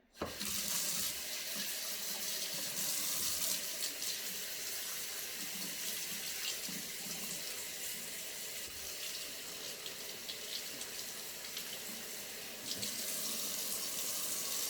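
Tap water runs steadily into a sink while dyed hair is rinsed under it, a close, continuous splashing rush that starts abruptly and carries on throughout with no talk.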